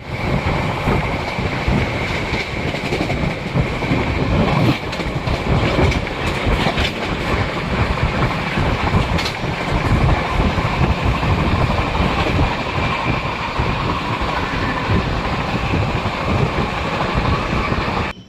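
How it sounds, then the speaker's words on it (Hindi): The Amrapali Express rolls into Aligarh Junction railway station, a loud continuous rumble with clickety-clack from the wheels and wind buffeting the microphone throughout. "तो दोस्तों ट्रेन अराइव कर चुकी है अलीगढ़ जंक्शन रेलवे स्टेशन पर।"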